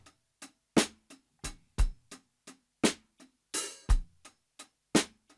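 Rough drum mix of a real snare and hi-hat bounced to one stereo track, a dry, sparse pattern of sharp hits with quick decays and one longer crashy hit near the middle, quiet and without talking.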